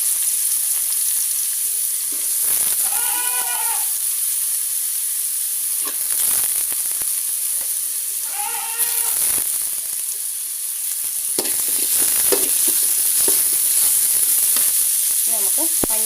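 Chopped onion and green chili sizzle steadily in hot oil for a moringa leaf stir-fry, with a loud, continuous hiss throughout. Occasional bursts of stirring and scraping break through, and a brief voice is heard now and then.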